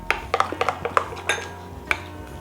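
A spoon clinks and scrapes against a bowl while salt is mixed into dhokla batter, a string of quick, light metallic taps close by with no talking.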